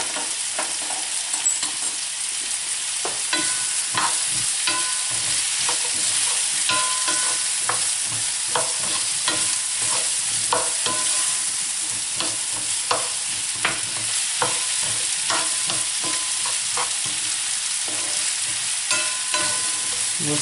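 Amba-spiced courgettes fry in a pan while a utensil stirs them. The steady sizzle runs throughout, with soft scraping strokes near and clear and no talking.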